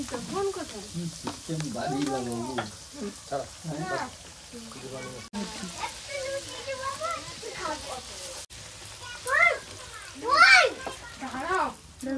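Luchi, puffed flatbreads, frying in hot oil at a village birthday celebration, giving a steady sizzle with brief louder bursts as pieces go in, under continuous nearby talk, a voice included.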